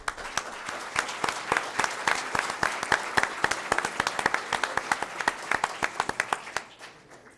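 An audience at a school board meeting applauds as a group of girls leaves the floor, a loud sustained round of dense clapping that thins to sparse claps before stopping.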